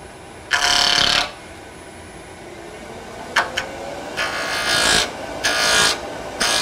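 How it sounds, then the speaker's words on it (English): A spindle roughing gouge cuts a small wood spindle on a lathe running at about 3200 rpm. It makes loud bursts of rough scraping that come and go over a steady motor hum, with pauses between cuts. "Now we can use a spindle roughing gouge on this, since it's just a simple basic spindle project."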